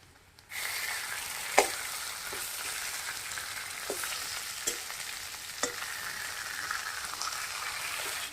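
A fried fish head hisses and sizzles loudly in hot oil with fried onions and cumin, the crackle starting abruptly and running steadily, broken by a few sharp clicks and knocks as it is stirred, for a lentil dal with radish and potato.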